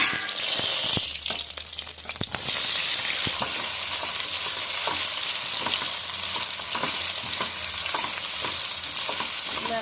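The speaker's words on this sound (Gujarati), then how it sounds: "હવે હું નાખીશ વઘારમાં" Cut bottle gourd muthiya tossed into a sizzling tempering of oil, curry leaves, chillies and seeds; loud continuous frying hiss with spoon scrapes and stirring clatter throughout.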